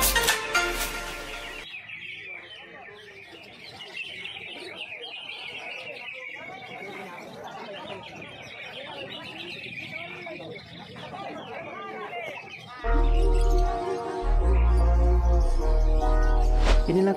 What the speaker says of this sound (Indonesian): Inilah kondisi pemuyokan burung nuri perkici pantai.